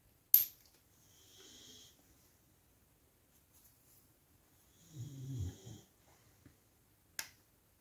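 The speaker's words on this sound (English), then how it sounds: "she snores a bit" An old poodle snores in two slow, soft breaths several seconds apart, close by in a quiet room. A sharp click sounds at the start and another near the end.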